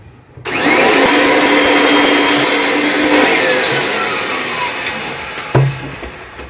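A vacuum with a suction attachment cleans parts of a 1969 Gottlieb Mini Pool pinball machine. Its motor roars up close and steadily, with slight changes in pitch as the suction varies and a brief clunk near the end.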